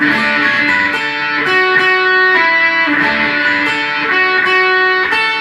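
Guitar strumming a steady, sustained progression from G into C with a bright, slightly driven tone, continuous and close with no pauses or speech.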